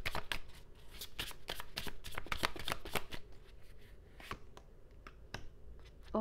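Tarot cards are shuffled by hand in quick, crisp riffles and slaps, a rapid run of sharp clicks that thins out toward the end, close and fairly quiet.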